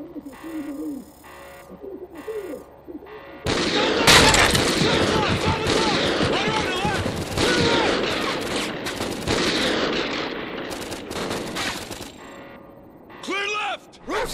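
Gunfire in Call of Duty: Ghosts after a remote sniper rifle shot, a loud dense burst of rapid shots and impacts lasting several seconds, with shouted voices and game sounds over it and quieter pauses before and after.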